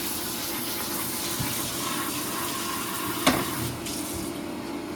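Tap water running into a sink over a hot frying pan just used for burgers, a steady broadband hiss with a faint sizzle, plus one sharp clink near the middle.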